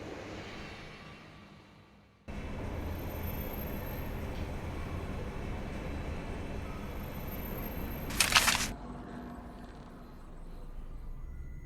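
Train arriving in the Dark City: Intrigue video game, a steady rumbling rail roll that starts abruptly and carries on, with a short bright hiss or squeal burst near the end.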